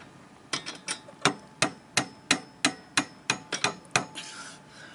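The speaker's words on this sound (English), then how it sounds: "Dad's hammer" About a dozen sharp hammer strikes ring out at a steady, even pace, each a crisp knock with a short decay, close by.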